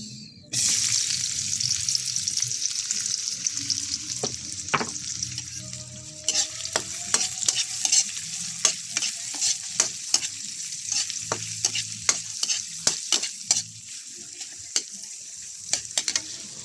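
Onions sautéing in a pan for a sardine soup, a continuous bright sizzle with frequent sharp metal spatula scrapes and taps growing busier toward the end, close and loud with no speech.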